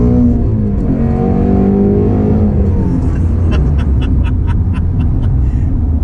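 A Ford Mustang GT350R engine revs loudly up toward 6,000 RPM, a dense close-up roar with a rising tone and rapid sharp pops toward the end.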